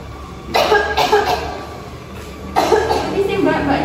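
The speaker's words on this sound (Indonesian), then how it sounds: "Ini sih mbaknya batuk kok nggak pakai masker ya?" A woman coughs in two short, harsh bursts during a clinic visit, the coughs close and loud against quiet room noise.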